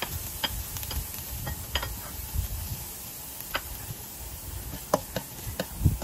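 Minced beef fries in a pan with a soft, continuous sizzle, broken by scattered scraping clicks as it is stirred, and no voices.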